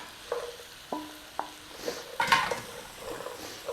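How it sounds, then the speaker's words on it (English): Carrots and celery cook in a pan with a quiet sizzle, broken by a few spoon stirs and clinks against the pan, close and faint. "In with your carrots. Start cooking those off."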